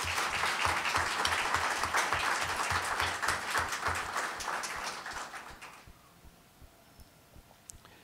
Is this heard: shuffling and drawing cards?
no